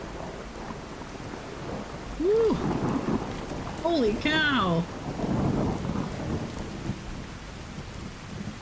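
Heavy rain and rumbling thunder from a storm in the video game Fallout 4 roar steadily throughout, while a voice exclaims loudly over the downpour.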